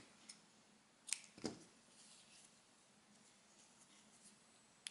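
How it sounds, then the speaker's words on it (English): Scissors snipping crochet yarn: a couple of faint, quick cutting clicks close to the microphone in a very quiet room. "And we cut the yarn."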